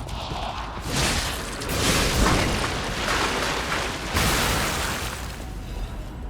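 Enemies in the action game Lies of P blow up in heavy, rumbling blasts, with two loud swells over a dense, noisy backdrop of combat.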